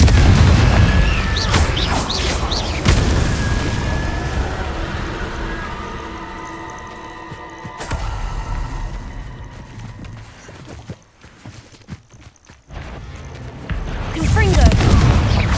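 Confringo blast spells in Hogwarts Legacy burst as loud booming explosions at the start and again near the end, with rumbling game ambience between and a voice speaking.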